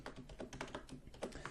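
Rapid, uneven clatter of keys on a computer keyboard as code is entered for a top-down shooter game, close and alone with no voices.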